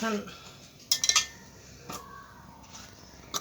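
Knife strokes slicing lemons on a cutting board, a quick cluster of sharp clicks and taps near the one-second mark, then a few isolated taps in a quiet kitchen.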